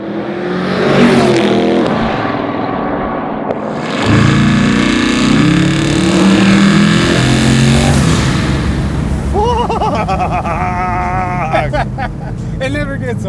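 A 1,600 hp twin-turbo Chevelle restomod roars and pulls hard, its engine note loud and close, then the blow-off valves hiss and flutter as it backs off, with people talking over the engine.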